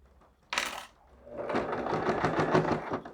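A sewing machine stitches the hem of a cotton dish towel, running steadily for about two seconds after a short sharp burst, close and moderately loud with no talking.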